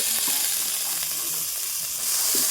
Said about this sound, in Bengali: সিমগুলো দিয়ে আরো পাঁচ থেকে ছয় মিনিটের মতন সময় নিয়ে সিম আলু একসাথে ভেজে নেব